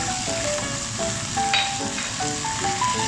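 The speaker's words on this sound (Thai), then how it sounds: "แล้วก็ทำการผัดคลุกเคล้าให้เข้ากัน" Garlic chives and liver stir-frying in a hot pan, seasoned with oyster sauce, light soy sauce, seasoning powder and sugar: a steady, loud sizzle with faint scraping as the food is tossed, close up and continuous.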